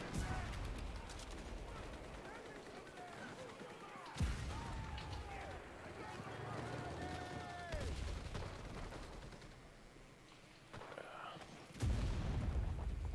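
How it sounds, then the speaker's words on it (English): Sniper rifle shots in an Enlisted first-person shooter battle crack out as sharp reports near 4, 8 and 12 seconds, with distant gunfire and battlefield rumble filling the gaps. "Looks like we got some sniping fights going on up here"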